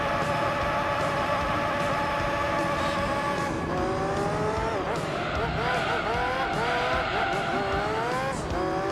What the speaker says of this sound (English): Drifting in a F1 car just sounds so fucked up